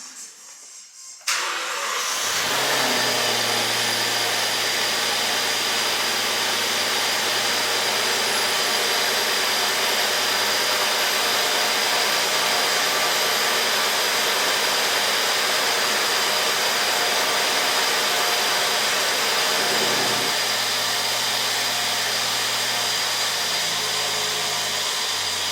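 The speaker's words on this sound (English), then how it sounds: "I'm going to go ahead and put you guys by the exhaust again and start the car up" A Rolls Royce Ghost with a misfire starts up and idles at the exhaust, a brief crank giving way to a steady, close, droning hum that shifts slightly in tone partway through.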